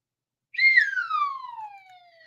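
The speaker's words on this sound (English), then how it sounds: "There's a whistle." A single loud whistle that slides downward in pitch, starting sharp and trailing off over about two seconds, heard alone.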